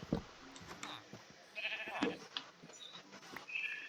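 Sheep bleating in the video game Minecraft, several short calls scattered across a few seconds alongside other faint game noises, no speech.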